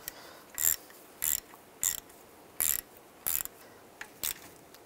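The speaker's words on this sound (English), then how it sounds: "And tighten the bolt down." A ratchet tightens a bolt on parking brake shoe hardware of a 2001-2008 Chevy Trailblazer, giving about seven short bursts of close, crisp clicking with brief pauses between them and no talk.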